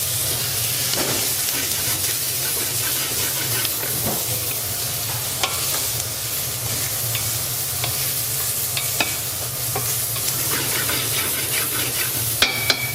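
Mirepoix vegetables brown in a restaurant pan, a loud continuous sizzle and hiss with occasional stirring scrapes and small pops.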